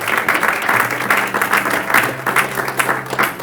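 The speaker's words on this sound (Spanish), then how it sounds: "Denle ese aplauso al Señor" A church congregation applauds loudly in praise, a dense, rhythmic roar of many clapping hands close by with faint voices mixed in.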